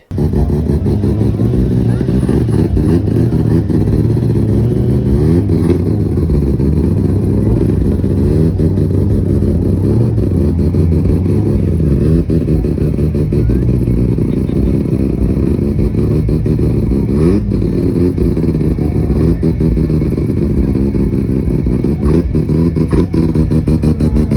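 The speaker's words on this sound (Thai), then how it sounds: "ไปฟังเสียงเครื่องยนต์กันเลยว่าดังขนาดไหน" A loud rotary-engine car at a car show runs continuously, throbbing and revving with a low, rough drone that stays steady and close throughout.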